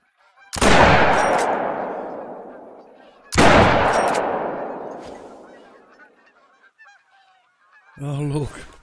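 Two loud blasts of a hunting gun ring out in theHunter: Call of the Wild, each trailing off in a long echo, followed by a brief burst of honking from a flock of geese passing overhead.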